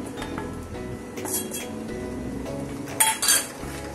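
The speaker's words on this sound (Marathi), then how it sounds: "ते सारखं ढवळत राहायला पाहिजे, थोडंही लागता कामा नये खाली।" Gram flour and coconut barfi mixture stirred in a metal pan, a steady scraping and swishing close up, broken near the end by a couple of sharp metallic clinks of the spoon against the pan.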